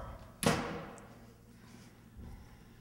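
A house door slams shut once with a sharp, loud thud that quickly fades into a quiet room.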